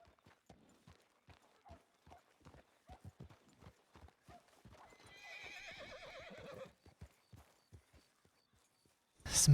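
Horse hooves clip-clop in a steady walking rhythm in a video game, fairly quiet and close, with a longer whinny partway through and a sudden louder burst right at the end.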